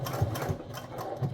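A sewing machine stitches a seam on a fabric strap keeper for a crossbody bag, a steady close whirring drone with a few rhythmic thumps, no voices.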